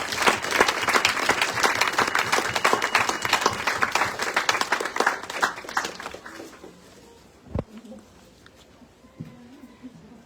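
An audience at a book launch in Tallinn applauds as editor Koidu comes onto the stage, brisk dense clapping for about six seconds that fades out, followed by a quiet room with a single knock.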